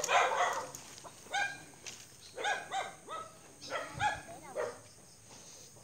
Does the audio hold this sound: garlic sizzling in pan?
no